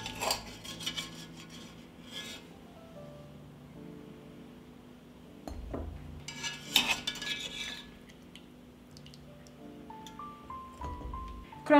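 Boiled potatoes lifted from a pot on a home stove bring metallic clinks and scrapes of utensil on cookware, several close knocks and clatters separated by quiet pauses, with faint background music.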